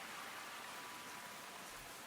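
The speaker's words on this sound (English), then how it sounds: "look, you can hear the waterfall stream, and as you walk away it fades out. And the rain and stuff like that" Soft steady rain hiss blends with a distant waterfall stream in the Hobbit farming game Tales of the Shire, a faint, even wash of noise with no talking.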